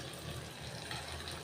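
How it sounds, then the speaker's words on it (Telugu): A little water is poured into a pan of brinjal curry cooking with coriander-chili masala, giving a brief, faint, steady trickle with no talk. "కొంచెం వాటర్ పోసుకుని దీంట్లోనే"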